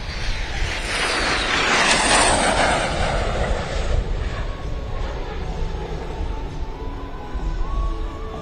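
A Shooting Star jet passes at an air show with a broad, rushing roar that swells to a peak early on and then fades into a long, steady rumble in the distance.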